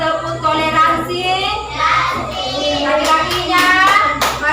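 Children in an Indonesian classroom perform the rhythmic 'tepuk toleransi' group clap, with bursts of hand claps in patterned rhythm mixed with young voices chanting along, steady and fairly loud throughout.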